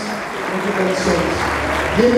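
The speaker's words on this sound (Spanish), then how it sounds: "Un aplauso al Señor." A church congregation at an evangelist's service in Tegucigalpa, Honduras applauds steadily, a dense wash of clapping underneath a preacher's Spanish speech.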